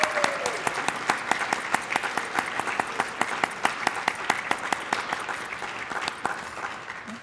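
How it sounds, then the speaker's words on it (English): Audience applause for new National Honor Society members at an induction ceremony, sustained even clapping from a crowd with some sharp nearby claps standing out, continuing for several seconds. "please join me once again in applauding all of our new National Honor Society"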